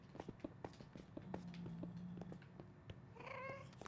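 Pigs in the Minecraft video game give short grunting oinks and a brief squeal over soft, rhythmic in-game footsteps, all fairly quiet and close.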